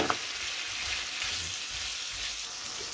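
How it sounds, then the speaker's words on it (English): Onion masala being fried and mixed into aloo gobi, a steady bright sizzle with soft stirring movements in the pan, close and continuous, no voices. "it's now time to add our onion masala. Mix all the ingredients."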